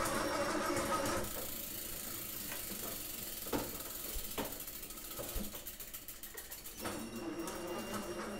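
An electric motor drives a mechanical power multiplier, a faint whirring gear mechanism with repeated ratchet-like clicks and occasional sharp knocks, steady and close.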